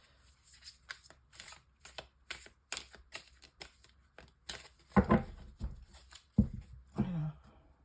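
Tarot cards are shuffled and handled close up, giving soft riffling and tapping clicks in uneven bursts with a few louder slaps, fairly quiet overall.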